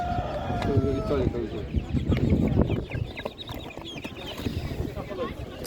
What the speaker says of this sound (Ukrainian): Так, вибір курей є великий.